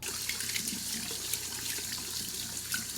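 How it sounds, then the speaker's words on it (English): Tap water pours steadily into a sink while hands are washed, a constant close rushing splash that fills the short stretch with no one speaking. "let me wash off my hands and then we'll get talking"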